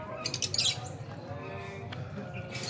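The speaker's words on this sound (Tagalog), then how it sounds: "little birds. Little birds. Mga maliliit na ibon." Small birds inside the Malagos bird feeding dome, with light chirps and tweets scattered over a steady background murmur of visitors and faint voices, brief bird calls at the start and near the end.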